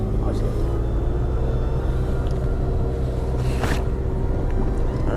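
A car engine pulls in first gear with a constant close, loud rumble, passing a hillside tea garden, while people talk over it.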